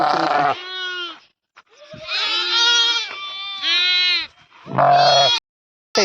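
Loud, close sheep bleats come in four drawn-out wavering cries separated by short pauses.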